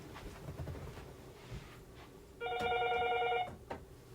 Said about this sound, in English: that's my phone ringing in my room.